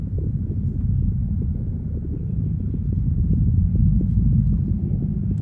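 A black hole sample pitched down four octaves in Ableton, rendered as a continuous deep, heavy rumble with faint crackly flutter on top, steady and loud throughout with no talking.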